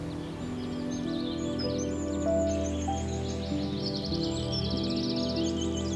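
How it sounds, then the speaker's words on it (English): Birds chirp and trill in quick repeated phrases in a Dublin Mountains forest over a steady low background hum, moderately near, with no talking. "Just the birds and the sound of the trees"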